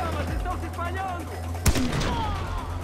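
A single sharp gunshot from a weapon in Far Cry 4, loud and close, standing out from a steady game background with music and ambient tones.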